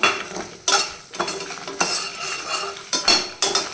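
A spoon scrapes and clinks against a pan, stirring chillies and tamarind as they sauté. The strokes are sharp and repeated, close by, over a soft sizzle, with no talk.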